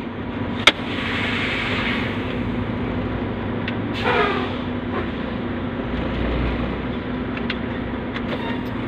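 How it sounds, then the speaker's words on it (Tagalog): A tractor-trailer truck idles steadily at close range during a parking brake check, with a constant low engine rumble, a sharp air click near the start and a few faint hisses and rattles. "Now, I'll check the tractor parking brake."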